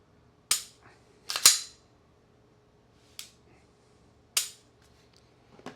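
Trigger clicks from a Glock 17 Gen 6 pistol: four sharp, crisp snaps, two close together near the start and two spaced farther apart, each loud and brief against near silence.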